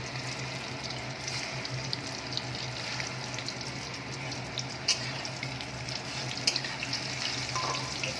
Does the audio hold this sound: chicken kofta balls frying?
yes